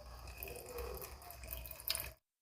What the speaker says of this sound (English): I need to add water.